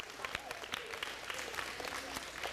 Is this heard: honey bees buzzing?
no